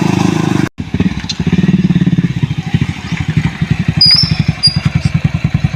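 A motorcycle engine putters close by with a rapid, even chugging beat after a brief cut-off, fairly loud and steady, with faint voices and a short high squeal in the background.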